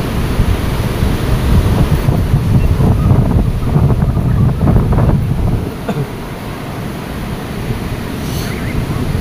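Ocean waves surging and breaking along a beach, a steady loud roar with a heavier wash in the middle and wind buffeting the microphone throughout, no voices.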